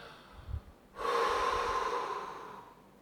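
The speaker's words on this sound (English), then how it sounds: "So first I'm gonna fully exhale." A single long, forceful exhale of breath at close range, starting after a short snort-like sniff and trailing off over about two seconds, before Frenzel equalization on a freediving breath-up.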